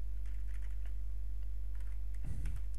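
Scattered quiet keystrokes on a computer keyboard while code is typed, faint clicks over a steady low electrical hum, with a brief bump near the end and no talking.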